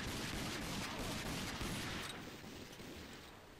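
Pistol gunfire in the video game RAGE: a dense, rapid run of loud sharp reports that blur together, then ease slightly toward the end, with no voices.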